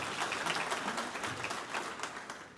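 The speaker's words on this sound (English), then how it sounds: "please give him a round of applause" Applause from an audience at a county commission debate in Orange County, a steady quiet patter of many hands clapping throughout, with no voices over it.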